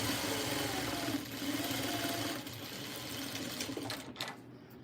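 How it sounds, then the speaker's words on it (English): A sewing machine topstitches quilting fabric with a steady, continuous whir that runs close and loud nearly the whole time, easing briefly near the end. "I'm going to top stitch this here"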